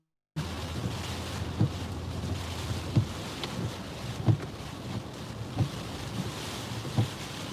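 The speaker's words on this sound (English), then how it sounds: "Moderate rain." Moderate rain driven by 20 to 25 mph east winds during Hurricane Isaias at Myrtle Beach makes a steady hiss under wind rumble, with periodic low thumps of gusts hitting the microphone.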